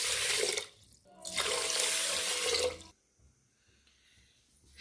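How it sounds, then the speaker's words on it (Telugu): Water poured into a wide vessel for sugar syrup, a steady close hissing stream in two pours with a brief break, then quiet. "కొంచెం వెడల్పాటి పాత్రలో పెట్టుకుని వాటర్ పోసుకోవాలి"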